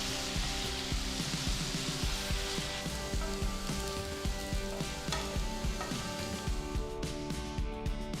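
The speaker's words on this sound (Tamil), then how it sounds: "இந்த கிழங்கை எண்ணெயில் சேர்த்து எல்லா பக்கமும் பொன்னிறமாக வர வரைக்கும் நல்லா ஃப்ரை பண்ணி எடுத்துக்கலாம்." Potato cubes fry in oil until golden, making a dense, loud, continuous sizzle and crackle like rain on a surface, steady across the whole stretch with no voices.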